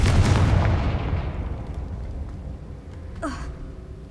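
Confringo explosive spell going off in the video game Hogwarts Legacy: a loud booming blast at the start that rolls off into a long decaying rumble, followed by a brief rising magical whoosh near the end, with no talking.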